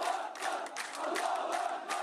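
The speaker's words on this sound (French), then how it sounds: "une foule en colère enterre son nouveau martyr." Angry crowd at a funeral in the Kalandia refugee camp in the West Bank, a dense roar of many voices shouting together with rising bursts of chanting, fairly distant.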